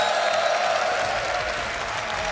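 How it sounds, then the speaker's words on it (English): A large live crowd at the Red Bull Wololo Londinium Age of Empires 2 semi-final applauds loudly and continuously, a dense wash of clapping and cheering filling the hall without pause. "We've got a raucous crowd"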